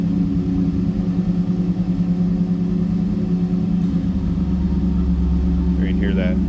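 A 1985 Chevrolet Camaro Berlinetta T-Top idles with a steady low engine rumble, then the tone shifts partway through as the AC compressor cycles, with brief faint sounds near the end.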